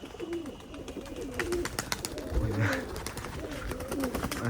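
Highflying pigeons in Khulna, several birds cooing in low, repeated throaty calls close by, with faint background noise and a few soft voices.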